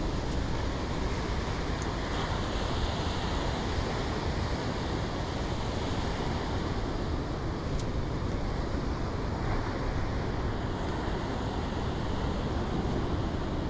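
Waves wash steadily on the water at Pennington, a constant broadband surf hiss mixed with wind noise on the microphone, even in level throughout with no voices.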